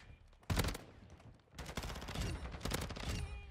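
Rapid automatic gunfire rattles in close bursts in Modern Warfare as a sentry gun is shot up, with three dense volleys separated by brief pauses.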